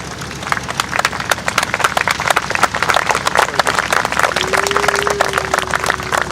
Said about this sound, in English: please give him a rousing round of applause